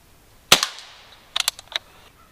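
A Crosman 1377 air pistol fires at a target: one sharp, close pop with a short ringing tail, then a quick cluster of three or four fainter clicks and taps from the target or the pistol's action.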